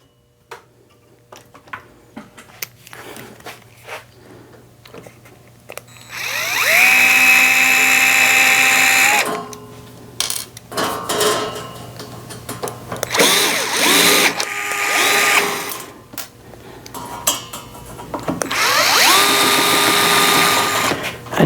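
Power drill backing screws out of the sheet metal dust shield on a Next Wave Shark HD5 CNC machine, with three loud whirring bursts, each rising in pitch as it runs, separated by handling clatter and short pauses.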